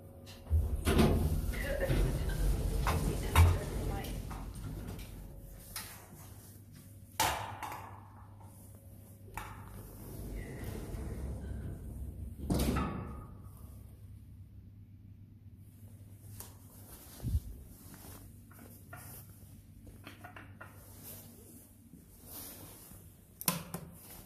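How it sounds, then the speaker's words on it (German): A 1998 Otis 2000H hydraulic elevator with a suspected hydraulic oil problem groans, squeaks and thumps at intervals, with quiet stretches between louder mechanical bursts and brief speech. "Boah, was ist mit dem Aufzug los? Der macht schon starke Geräusche."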